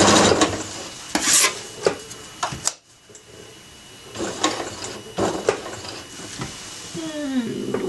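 A sewing machine stitching a drawstring bag, a few short bursts of rapid mechanical rasping separated by pauses, close and moderately loud, ending with a brief rising whir.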